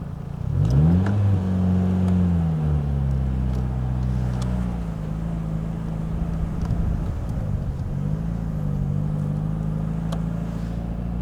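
A 1997 Mitsuoka Zero-1 pulling away with a light touch of the throttle, its engine rising in pitch as it gains speed and then settling into a steady drone, close and continuous.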